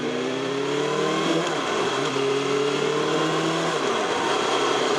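A BMW M1000R motorcycle engine revs up and settles in rising and falling pitch sweeps, loud and close over steady road rumble.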